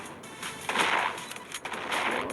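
Gunfire in a shooting video game, with sustained bursts of noisy shots crackling close and loud, a short gap, then another burst.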